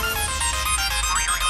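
A mobile phone ringtone plays as a loud, bright electronic melody with warbling tones, filling the short moment without pause.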